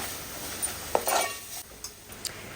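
Ground masala paste for prawn curry sautéing in a pan makes a gentle sizzle, with a few light clinks and scrapes of a spoon stirring against the metal.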